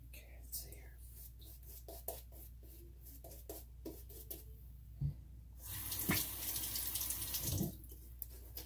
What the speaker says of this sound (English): I have to add some more water, I think, make my lather a bit wetter.